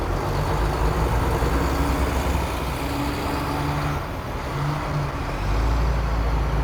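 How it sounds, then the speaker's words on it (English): An Army National Guard MATV and a recovery vehicle drive along in a Veterans Day parade, giving a loud, steady low engine rumble with road noise throughout. "The Indiana Army National Guard with their MATV and a recovery vehicle in this year's 2019 Veterans Parade."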